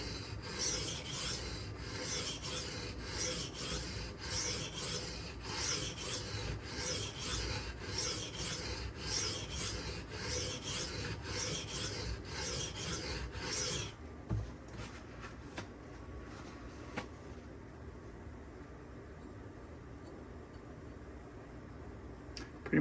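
A Benchmade Anthem knife is stroked steadily on a sharpening stone, making a loud, continuous rasping scrape for about fourteen seconds. Then come quieter, sparser strokes and a few clicks, with no voices.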